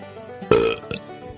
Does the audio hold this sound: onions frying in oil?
no